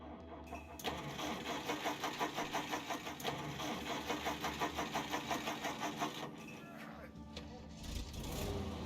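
In the video game As Dusk Falls, a car engine runs with a steady pulsing throb at an even rhythm, close and moderately loud, while people talk over it.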